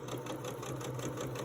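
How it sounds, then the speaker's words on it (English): A sewing machine stitching quilt pieces, running steadily with a rapid, even mechanical rhythm close by and no talk. "off I go straight away"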